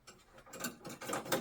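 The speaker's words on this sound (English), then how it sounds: "I think we need to take this screw off here to get to the expansion cards." A small screw is unscrewed inside a Gateway 700XL desktop computer, producing faint, close ratcheting clicks and light metallic scraping in quick bursts, with no talking.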